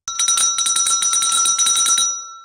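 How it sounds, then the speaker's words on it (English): A telephone rings with a rapid electronic trill, steady bursts of repeated tones running for about two seconds before stopping, close and fairly loud, alone with no voices. "the silence was absolute until the phone signaled"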